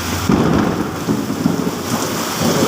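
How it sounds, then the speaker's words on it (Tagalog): Heavy rain pours steadily while deep thunder rumbles close by, a dense continuous roar with no voices. "napakalakas po talaga ang butang ulan dito"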